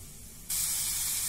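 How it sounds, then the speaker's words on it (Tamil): Sudden loud, steady sizzle of onion frying in a pan, starting abruptly after a quieter moment and holding constant, close up with no talk. "ஆனியன் ஓரளவுக்கு ஃப்ரை ஆயிடுச்சு"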